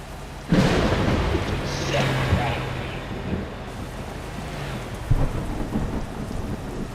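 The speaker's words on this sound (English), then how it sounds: "I got caught outside with thunder and lightning like this" Thunder rolls through a thunderstorm with steady rain, a sharp crack near the start and another strong rumble later, low and loud over continuous wash; faint voices may sit underneath.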